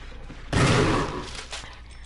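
Gunfire in a Resident Evil video game, shots fired at a lethal sprinting enemy: a loud burst of rapid overlapping shots that starts abruptly, then a fading tail and a second sharp report, with no talk.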